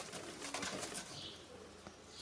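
Zamość pigeons coo softly in a loft, faint low calls and a flutter of wings against a quiet background.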